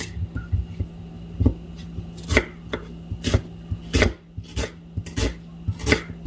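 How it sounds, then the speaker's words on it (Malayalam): Onion and green chillies being chopped on a board for poha, a steady series of sharp knife strikes close up, irregular but frequent, over a low constant kitchen hum with no talking. "അപ്പം നമ്മൾ പോഹയ്ക്ക് വേണ്ടിയിട്ടുള്ള ഉള്ളിയും പച്ചമുളകും അരിയാം"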